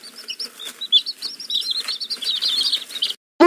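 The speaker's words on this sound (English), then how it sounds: "Look, there's a bird. I found a bird." A small bird chirps repeatedly in quick, high, bright tweets that come in a lively series for about three seconds, close and clear over a quiet background. A short thud follows at the end.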